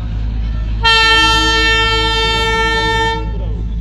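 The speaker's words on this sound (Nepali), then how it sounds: "ट्रेन आ रहा है ट्रेन" A train approaches with a loud, sustained multi-tone horn blast lasting a couple of seconds over a deep rumbling rail roar, heard near and alone without talk.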